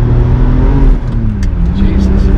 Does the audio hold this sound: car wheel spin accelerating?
yes